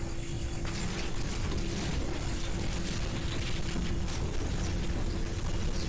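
A noise machine being smashed in the video game Condemned 2: Bloodshot, a loud, dense, continuous mechanical grinding and clattering roar that fills the whole stretch without a break.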